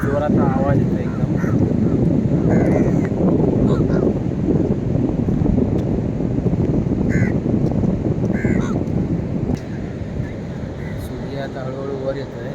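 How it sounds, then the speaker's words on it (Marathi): Many crows caw repeatedly on an empty Goa beach at early morning, over loud crashing waves and wind buffeting the microphone, with a voice talking through much of it. "इकडे कावळ्यांची शाळा भरली आहे माझ्या मागे."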